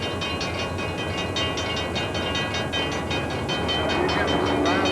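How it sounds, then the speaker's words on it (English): A train rolls past on the rails with a steady loud rumble and rhythmic clickety-clack of wheels over the track joints, close and continuous throughout. "Today, we're gonna look at some awesome trains."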